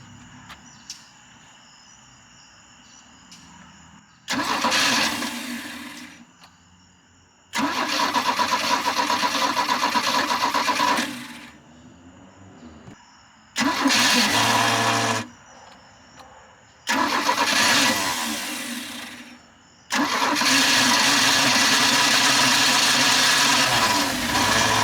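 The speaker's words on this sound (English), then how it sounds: "I'm going to see if it just cranks up before dumping any fuel down the carb and see what happens." An old ski boat engine cranks in repeated bursts, whirring for several seconds at a time between pauses, before catching and running loudly at the end, close by with no talking.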